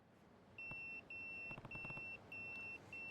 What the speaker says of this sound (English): That's my beeper.